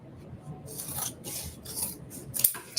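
Scissors snipping through sewn fabric along a seam allowance, several crisp close cuts in an uneven rhythm over a quiet background.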